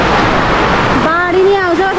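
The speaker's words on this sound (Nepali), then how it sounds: "हेर्नु आम्मामा यस्तो डेन्जर पानी परिरहेको छ नि" Heavy monsoon rain roars as a dense, steady wash of noise near paddy fields, with a voice talking loudly over it.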